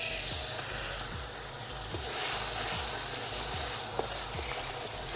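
A tomato hisses and sizzles in hot oil for a Bengali mustard katla fish curry, a dense, steady crackling frying noise close by, with a couple of soft spatula knocks and no talking.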